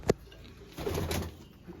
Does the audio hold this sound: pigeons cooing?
yes